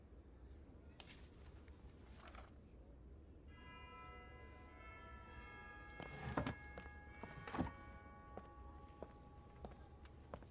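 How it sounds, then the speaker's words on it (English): Bells ring in the video game Fire Emblem: Three Houses, sustained bright tones swelling in over a steady low background with a few soft thuds, moderately loud. "The bells are ringing."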